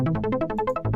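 Synthesizer arpeggio from the Poison plugin with delay: a quick run of evenly spaced plucked notes, about a dozen in a second, bright and close with echoing repeats.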